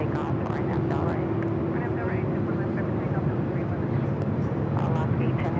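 A heavy jet airliner on takeoff at LAX, a steady loud engine roar holding throughout while a radio voice talks over it.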